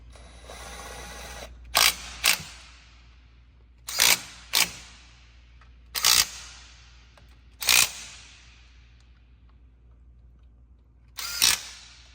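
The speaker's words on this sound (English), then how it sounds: "Now we can install all the bolts." A power tool fires in short bursts while tightening differential cover bolts on a car, with about six sharp rattling spurts separated by pauses over a low steady hum.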